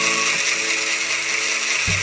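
Machine stirring epoxy resin for a clear river table, a steady continuous whirring drone with a sharp low thump near the end, no talk.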